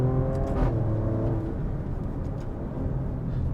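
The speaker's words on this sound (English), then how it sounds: "You hear that upshift sound?" A 2023 Maserati Grecale Trofeo engine revs up, then its pitch drops abruptly as the gearbox shifts up via paddle shifters with a quick exhaust crackle, followed by a steady engine hum.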